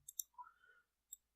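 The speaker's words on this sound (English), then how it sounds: "and then click on the done button" Three crisp computer mouse clicks, two close together at the start and one alone near the end, with a soft electronic tone between them in a quiet room while working through a VMware virtual machine setup.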